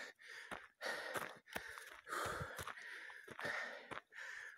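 A hiker breathes heavily and rhythmically while climbing a steep mountain trail up Peña Valdorria, each close, loud gasp and exhale coming in quick succession with brief pauses between breaths.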